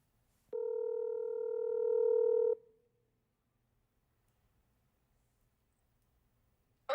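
An outgoing phone call on a Google Pixel 10 sounds a single steady, clear ringing tone for about two seconds, then falls silent.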